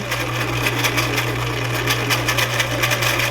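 A sewing machine runs steadily, stitching a straight seam and backstitching at the start, with a constant motor hum and rapid needle ticking throughout.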